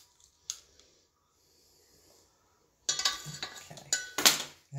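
Apple coffee cake batter with vanilla is mixed in a bowl, giving a few faint clinks at first and then a loud burst of scraping, clattering utensil strokes against the dish.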